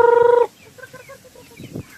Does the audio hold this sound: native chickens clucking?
yes